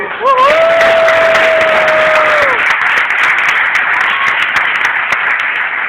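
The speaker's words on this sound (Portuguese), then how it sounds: "Quem pode dar palmas ao Senhor?" A church congregation claps loudly together in dense, steady applause for a children's worship moment, with a voice rising in a brief sung or shouted tone at the start and fading under the sustained clapping.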